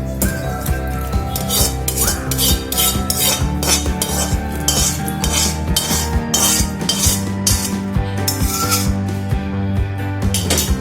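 Spoon scraping and clinking against a steel mixer jar as idli chutney is scooped in, a close run of repeated metallic taps and scrapes with a steady low hum underneath.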